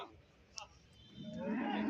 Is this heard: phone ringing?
no